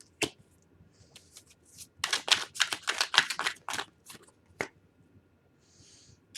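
A deck of tarot cards being shuffled by hand, a few light taps, then a burst of quick riffling flutters, and a final tap before it goes quiet.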